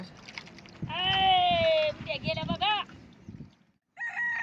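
Village chickens near a nest basket, with one bird giving a loud, drawn-out call and then a few clucks before a short pause. Soft background noise runs underneath.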